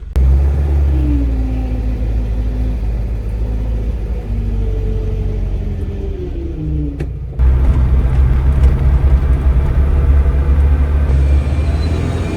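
A 1985 Mitsubishi Pajero driving on the road with a steady low engine rumble and droning cabin noise, pitch sliding through a gear change, then a louder, rougher drone after a brief dip midway; no talking.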